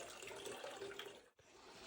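Water pours steadily from an old carved stone spring dating to 1819 in Old Khndzoresk, Armenia, a close, continuous splashing stream that dips briefly before carrying on.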